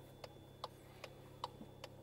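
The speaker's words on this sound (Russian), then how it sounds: "Аварийная сигнализация." Hazard warning lights on a Volkswagen Polo liftback with manual transmission tick in a steady, even rhythm, five quiet clicks about 0.4 seconds apart over low cabin hum.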